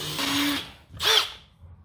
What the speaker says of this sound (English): drill all the holes